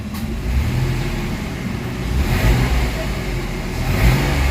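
A Mitsubishi Mirage engine with a throttle delay and low power revs up close, its mid-pitched drone swelling and falling through the rpm range while someone talks over it.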